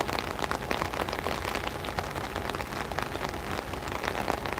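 Steady rain pours down during a locomotive excursion, a dense, even hiss of drops drumming on surfaces with no break and no voices.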